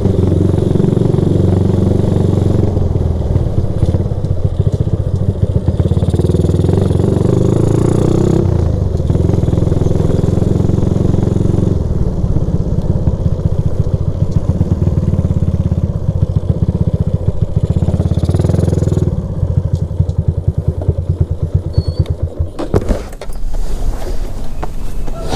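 A Suzuki Supra motorcycle fitted with an R9 silencer exhaust idles and revs up close, a loud continuous engine drone that rises and falls in pitch with the throttle through the whole stretch, with no talking.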